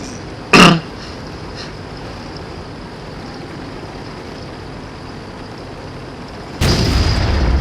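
A tank gun in the World of Tanks video game fires with a single loud boom near the start, followed after a quiet stretch by a louder, sustained blast that runs to the end, with no talking.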